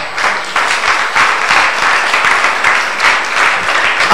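A church congregation at a Sunday service in Libreville applauds loudly and steadily, a dense, continuous wash of many hands clapping close by throughout.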